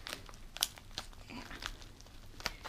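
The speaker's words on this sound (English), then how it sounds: "Let me see if I can just peel this open." Plastic packaging for a diamond painting kit is crinkled and peeled open by hand, giving a series of soft, close crackles and sharper crunchy snaps at an irregular pace, fairly quiet, with no talking.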